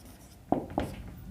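Two short chalk or marker strokes on a classroom board during a physics lesson, each a quick scratchy tap about a quarter second apart, close and fairly clear over quiet room tone.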